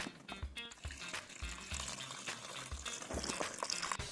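Peeled onions washed under running water for an onion payesh, a continuous splashing and trickling with low knocks of the vessel, fairly faint and close, with no voices.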